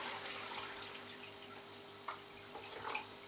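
A potted Cattleya orchid in sphagnum moss is watered, giving a steady, soft hiss of running water with a few faint splashes and drips, close and alone without talk.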